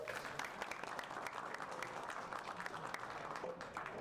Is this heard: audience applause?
yes